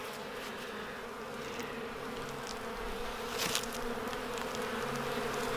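Live honey bees in a hive that survived a winter die-off give a dense, continuous buzzing drone that stays close and even throughout, with no voices.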